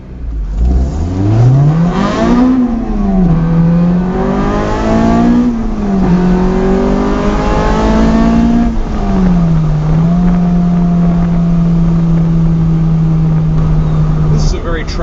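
A Honda Insight fitted with a swapped K20 Acura RSX-R engine pulls hard on a test drive, the engine loud and close as revs climb and drop through several gear changes before settling into a steady drone.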